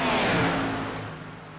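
Race car engines roaring at Daytona International Speedway in a cup-series racing game: a loud, close whooshing pass that fades over under two seconds, with no talk.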